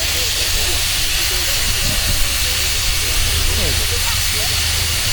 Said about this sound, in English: Here's a Foden steam wagon.